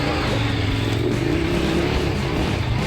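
Steady low engine drone of a BMW R1300GS motorcycle running nearby off-road, with a slight rise in pitch as it revs, constant throughout.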